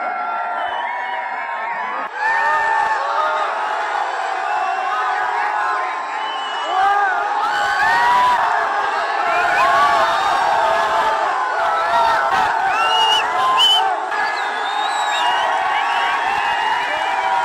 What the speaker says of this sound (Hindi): कभी कोई चिल्ला रहे कभी कोई चिल्ला रहे।